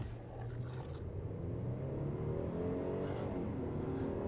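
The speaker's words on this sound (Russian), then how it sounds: "Как бы прям очень тяжело машина разгоняется." A Kia K900 accelerating from a standstill, its engine note a steady low rumble that slowly rises in pitch as the heavy sedan gathers speed, close and continuous, with no talk.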